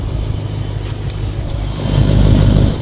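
A Lexus RC/IS engine idles steadily after a remote start, a close, low rumble that grows slightly louder near the end, with no talking.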